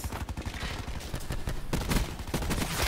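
Rapid automatic rifle fire from an ABR-223 in the video game Call of Duty: Black Ops 4, bursts of shots cracking in quick succession throughout, fairly loud and with no speech over them.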